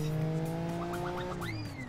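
A car horn in Forza Horizon 3 honks in a series of short, quick toots over a steady engine drone, ending with a longer rising blare.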